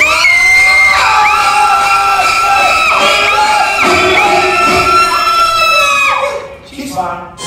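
A theater audience at a Universal Studios special effects show screams together in sustained, high-pitched shrieks that trail off and break into scattered shouts near the end.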